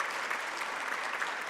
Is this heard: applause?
yes